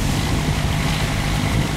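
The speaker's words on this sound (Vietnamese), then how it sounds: "Động cơ nghe cũng rất là lớn nha." Large ship's engine as the vessel heads out through a river mouth to sea, a loud, steady low drone with broadband rumble holding constant throughout, close and continuous with no voices.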